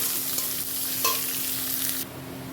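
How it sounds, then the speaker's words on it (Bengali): Chopped onion frying in a pan with a steady sizzle, broken by a couple of spatula scrapes, before the sizzle suddenly drops quieter near the end. "পেঁয়াজটা আমি সুন্দর করে ভেজে নিয়েছি।"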